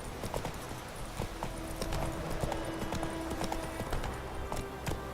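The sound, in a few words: horse Roach galloping, from video game The Witcher 3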